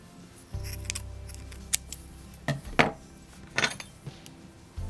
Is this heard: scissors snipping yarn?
yes